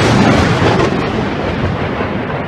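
Loud, sustained rumble of thunder from a nearby lightning strike during a severe thunderstorm in upstate South Carolina, a dense roar filling the whole clip with no talk over it.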